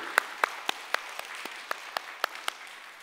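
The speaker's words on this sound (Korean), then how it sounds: "하나님께 영광의 박수." A church congregation claps together in a steady, even rhythm, about a dozen sharp claps in quick succession, moderately loud and without talk.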